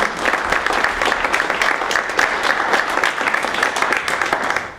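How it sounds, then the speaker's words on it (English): An audience applauds steadily for a former police chief at a 2019 St. Clairsville mayoral candidates' meeting, with dense, even clapping filling the room for about five seconds without a break. "Could you please give him a round of applause?"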